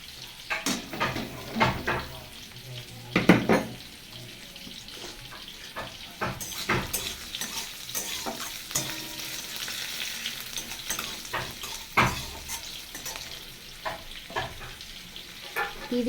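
Whole garam masala with cumin, peppercorns, bay leaf, ginger, garlic and chilli fries in oil, a steady sizzle punctuated by frequent clattering stirs and scrapes of a spoon in the pan, close up, no talk.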